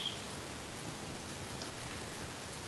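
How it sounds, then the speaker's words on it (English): Steady rain falling in the Minecraft video game world, a dense, even hiss of downpour that carries through the whole stretch with no voices over it. "This rain is making me lag."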